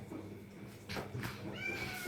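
A cat meows briefly and faintly, a short rising cry near the end, against quiet room noise.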